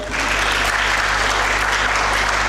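Dense, steady applause from an audience at an English speech competition, close and loud, continuing evenly from start to finish without talk.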